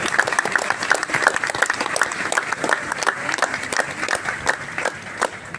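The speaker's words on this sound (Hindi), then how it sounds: "जोरदार तालियां बजाते हैं सबके लिए" Dense, crackling applause from a crowd at the Believers Eastern Church general convention, continuous and fairly close, with individual claps standing out in an uneven rhythm.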